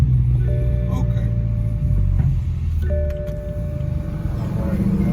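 A twin turbo BMW 4 Series drives along with a steady low engine rumble and road noise from inside the cabin, with a faint tonal whine rising at times and people talking over it.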